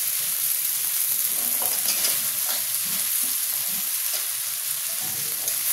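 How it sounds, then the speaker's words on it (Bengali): Ridge gourd stirred and fried in a pan with turmeric among other frying vegetables, a steady close sizzle with soft scraping stir strokes throughout, no voices. "ঝিঙেটা একটু নেড়ে নেবো।"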